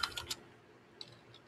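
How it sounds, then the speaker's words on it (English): A short burst of typing on a computer keyboard, a few quick close key clicks at the start, then a pause and two more faint taps over a quiet background. "It's going to make me manually type it in."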